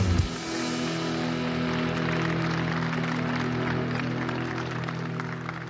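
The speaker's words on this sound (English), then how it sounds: "Let's give our families a round of applause." Graduates and guests at a Bridgewater State University commencement applaud for their families, a broad wash of clapping from a large crowd that starts with a brief burst and holds steady throughout, with no talk over it.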